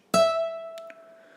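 A single sustained high-pitched musical note, played as a music theory example of high pitch, with a sharp attack and a steady pure tone that fades slowly; no talking.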